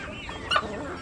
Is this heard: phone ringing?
no